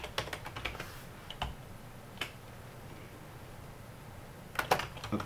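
Computer keyboard typing while a chart title is being edited, with several short bursts of clicky keystrokes, a pause, then another quick flurry near the end, close and fairly quiet.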